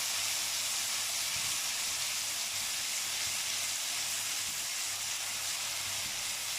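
Garlic ginger paste frying in a pan for a desi-style chana pulao, giving a loud, continuous hiss that holds steady with no talking.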